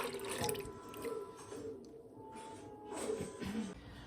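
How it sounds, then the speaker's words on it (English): Strained crabapple juice is poured into a pot, giving a continuous liquid gurgle and splash that swells and eases in waves, close by and moderately quiet, with no talking. "we are going to put our 7 cups of juice into our pot"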